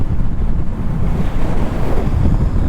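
Heavy wind buffeting the microphone while riding a Honda CL500 scrambler motorcycle on a city ring road, a loud steady low rush that masks any engine note.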